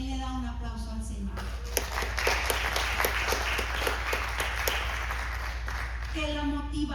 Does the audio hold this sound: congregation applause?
yes